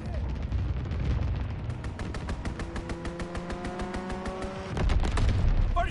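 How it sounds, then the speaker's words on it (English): Rapid bursts of enemy aircraft machine-gun fire sweep through during a strafing run in a WWII battle, a dense rattling volley over rumbling background noise, with a steady engine-like tone rising beneath the shots. "Enemy strafing run inbound."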